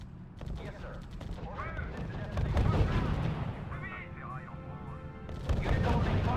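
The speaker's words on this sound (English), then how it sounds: "Unit opening fire on the enemy." Battlefield gunfire from units in the real-time strategy game R.U.S.E., with dense shots and rumbling booms running steadily beneath overlapping radio-style voices.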